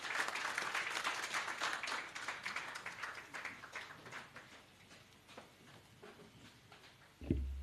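Applause from an audience at an agriculture summit, dense clapping that starts strong and gradually thins and fades, ending with a brief thump.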